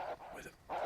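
Wolves in the Red Dead Redemption video game let out two short yelping barks, a brief snarling call between them, close and moderately loud.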